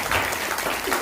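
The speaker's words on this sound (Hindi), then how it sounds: "तालियां दोनों हाथ से अपने बजाएं।" An audience at a business training seminar claps with both hands, a brief burst of dense, steady applause.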